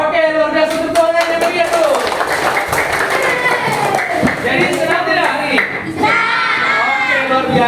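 Children in a classroom clap their hands along to a song, lively group clapping and singing voices filling the room, with a teacher's voice and children's shouts mixed in.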